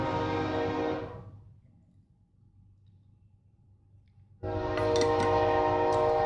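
A loud train rumbles past and fades to a low distant drone, then a blaring horn cuts in suddenly and holds steady until the end.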